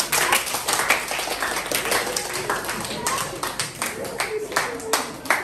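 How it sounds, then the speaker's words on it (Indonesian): Students in an Indonesian classroom clap together in a dense, steady patter of many hands, close and loud, with a few sharper claps standing out and some voices mixed in. "Oke, tepuk tangan."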